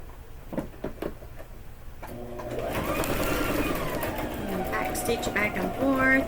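A sewing machine starts after a few soft handling taps and then runs steadily, stitching a quillow back and forth with a close mechanical whir, while a person speaks over it.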